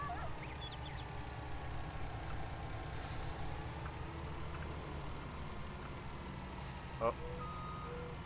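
A lorry in a farming simulator game idles with a steady engine drone, letting out a hiss of air brakes while reversing beeps chirp faintly; someone speaks briefly.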